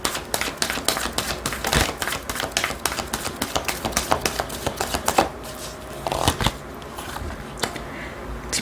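Oracle cards are shuffled for a tarot reading, with rapid, crisp riffling and slapping of the card deck in a steady run of close taps and flutters. It thins out into a few sharper snaps near the end.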